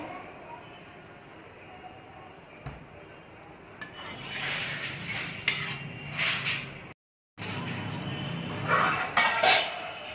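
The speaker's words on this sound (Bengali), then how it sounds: "এবার আমি দিয়ে দিলাম ঢাকা" A lid goes onto a cooking pot of sukto, a Bengali mixed-vegetable curry with milk and water, giving brief metallic clinks and a clatter over a low kitchen background while a person talks.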